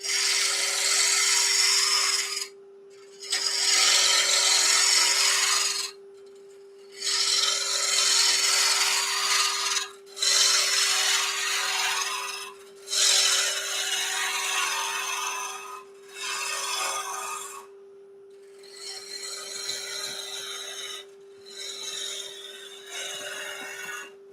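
A turning tool cuts wood shavings from a spinning bowl blank on a lathe, a loud steady hiss and rasp broken into repeated bursts with short silent pauses between cuts, no talking.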